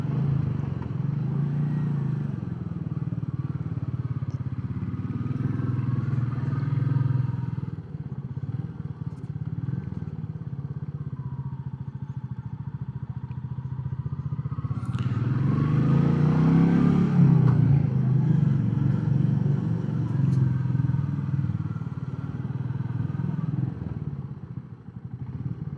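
A Royal Enfield Meteor 350 motorcycle riding a village trail, its engine thrumming steadily with a swell of revving midway, accompanied by rattles and rough-ground clatter.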